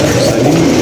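A pigeon coos in a low, continuous drone close by, the sound steady and loud across the short stretch with no pauses.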